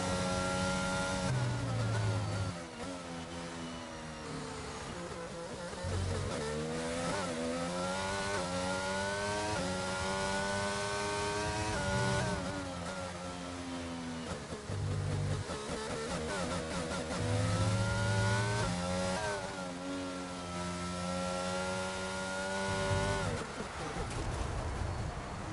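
Formula 1 race car in an F1 video game on a hot lap at the Austrian circuit, engine note droning steadily with rising and falling pitch sweeps through gear changes and corners, loud and continuous throughout.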